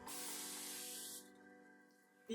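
A plant mister spray bottle squeezed once, giving a close, bright hiss of fine spray that lasts over a second and then fades into a quiet room.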